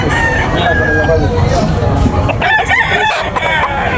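Rooster crowing loudly and close at a busy chicken market in Tabunok, Talisay, Cebu, with clucking fowl and crowd babble and vendor talk underneath throughout.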